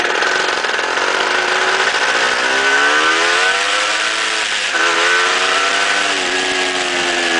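A 1970 Suzuki TS250 motorcycle engine runs close and loud at full throttle, a steady buzzing roar whose pitch climbs, dips and climbs again as the revs rise and fall.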